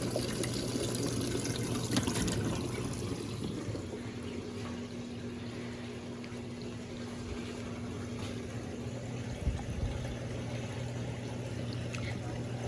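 An Electrolux Turbo Compacta 7 kg LTC07 washing machine drains water after a wash cycle, a steady close rush of flowing water with a low motor hum running throughout.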